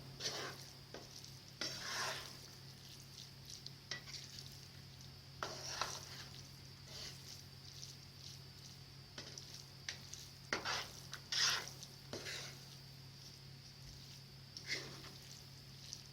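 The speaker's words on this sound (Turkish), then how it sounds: "Bir çay kaşığı kadar da karabiber ekliyorum iyice karıştıracağım şimdi." Pilaf with cinnamon and black pepper being stirred in a pot: a recurring scrape of utensil against metal through the grains, in several bursts over a low steady hum, no voices.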